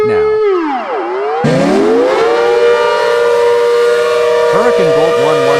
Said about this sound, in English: Dutch Modulator 2008 0/10. This siren is different now.